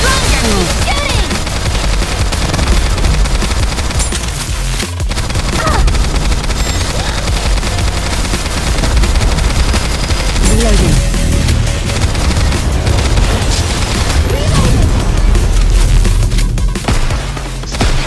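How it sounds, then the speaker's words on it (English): Intense gunfire in the Nikke x Stellar Blade game event: sustained rapid bursts and booms over loud music and effects, dense and continuous, with a voiced line or two mixed in. "Shooting!"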